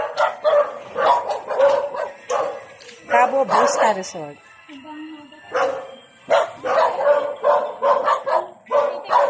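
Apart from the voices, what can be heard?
dogs barking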